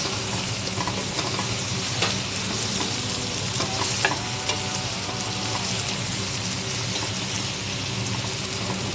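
Garlic and onion sauté in a pan with a dense, steady sizzle, and a spatula stirs them in soft, irregular scrapes throughout.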